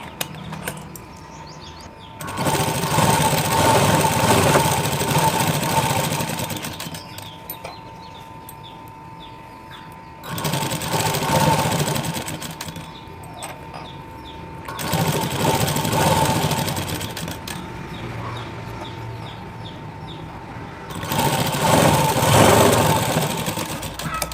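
A sewing machine that is acting up stitches a shoulder seam on a garment in a beginners' sewing lesson. It runs loudly in four long bursts with short pauses between them, and a steady hum carries on underneath.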